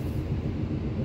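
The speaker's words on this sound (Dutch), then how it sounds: "dat was de trein die ik net had, die SNG" A Sprinter New Generation (SNG) train passes close by, a brief, steady low rumble and roar that fills the moment without pause.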